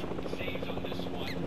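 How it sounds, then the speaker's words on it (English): A helicopter flies nearby outdoors by the water, its steady rotor buzz continuous throughout beneath a faint voice. "there's a helicopter."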